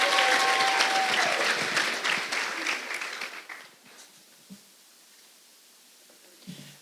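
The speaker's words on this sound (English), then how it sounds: "Please give a round of applause for Stacy Ann Facey." Applause from the audience at a school district Teacher of the Year celebration honoring a teacher, loud at first with a few whoops, then thinning out and fading to near silence with a couple of stray claps.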